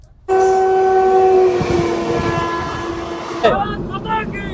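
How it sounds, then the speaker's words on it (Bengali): The Sealdah–Jalpaiguri Humsafar Express pulls out of Krishnanagar platform with a loud, sustained horn blast near the start. The blast fades into rumbling wagon noise, and a sharp squeal or clank follows near the end. "কৃষ্ণনগর প্ল্যাটফর্ম থেকে শিয়ালদার উদ্দেশ্যে ট্রেন বেরিয়ে যাচ্ছে"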